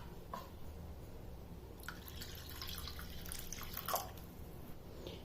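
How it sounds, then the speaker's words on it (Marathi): Water poured into a bowl of mixed sattu flour for a sattu sharbat, a faint trickling and dripping with a few brief splashes, quiet and close with no talking. "हे चांगलं मिक्स झाल्यानंतर मग आता यात पाणी टाकायचं।"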